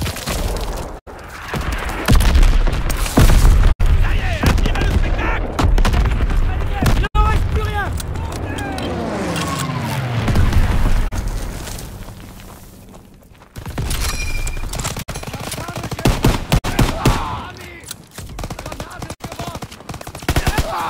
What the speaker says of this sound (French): Ici vient l'assaut de l'artillerie!